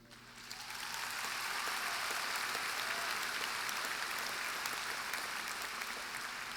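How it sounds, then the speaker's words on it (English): Graduation audience applauding parents and teachers at a June school ceremony, a dense, steady wash of clapping that swells within the first second and holds evenly throughout, filling the hall without voices. "Please join me in applauding them"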